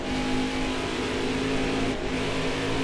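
Race truck engine in an oval racing game at Phoenix, a steady loud buzzing whine of a revving engine held at high pitch, with a brief dip as another truck draws alongside on the inside.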